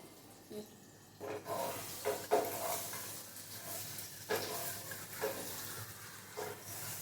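A cube of butter melts in a pan for a bread omelette, giving a soft, steady hiss and sizzle with a few louder spitting bursts and some scraping, close up and without talking.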